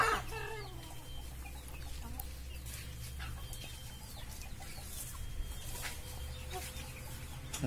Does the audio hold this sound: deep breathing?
no